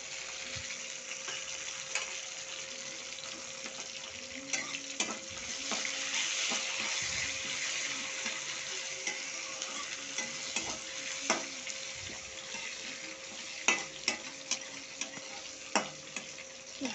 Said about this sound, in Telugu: బాగా ఫ్రై అవ్వాలి. కొంచెం లైట్ బ్రౌనిష్ వచ్చే వరకు ఫ్రై చేసుకోవాలి.